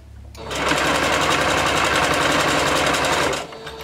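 A sewing machine runs steadily for about three seconds, stitching slowly over a thick side seam on a bodysuit, its close, even mechanical whir stopping abruptly near the end.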